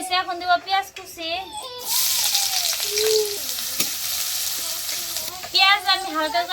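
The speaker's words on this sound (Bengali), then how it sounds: "তেল গরম হয়েছে, এখন দিব পেঁয়াজ কুচি।" Chopped onion hits hot mustard oil in a pan and sizzles steadily for several seconds, with someone talking before and after the frying noise.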